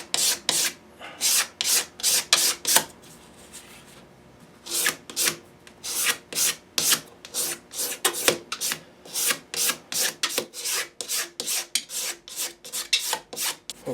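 Wooden fingerboard shim on a Gibson guitar neck being scraped by hand, close and dry rasping strokes in a steady back-and-forth rhythm, about twenty strokes with a short pause near the middle.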